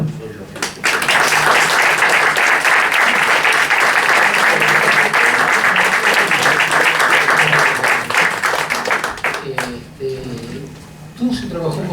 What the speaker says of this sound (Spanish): creo que un aplauso es lo que